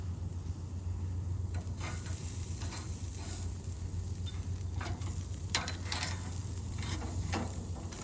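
A steak searing on a Santa Maria grill, a soft continuous sizzle with a low hum beneath and scattered light metallic clicks and taps from the grate, heard at a modest distance.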